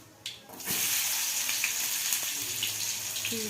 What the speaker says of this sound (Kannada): ಜೀರಿಗೆ, ಸಾಸಿವೆ ಚಟಪಟ ಅಂದಮೇಲೆ